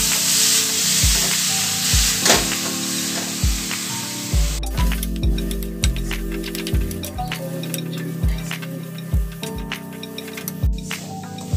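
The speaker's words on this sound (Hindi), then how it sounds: "और इसे थोड़े से भून लेंगे अच्छे से। जब तक ये थोड़े थोड़े पक जाए तब तक हमें इसे चलाना है।" Grated carrots sautéing in a pan over the gas, a constant sizzle broken by repeated scraping strokes of a spoon stirring at an uneven rhythm, close and clear with no voices.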